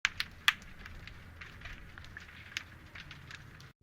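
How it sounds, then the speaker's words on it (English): Faint recorded room ambience with soft crackles and a few sharp clicks and taps over a low, steady background hiss, used as an ambient music layer. "what this is just some room noise I had recorded at some point"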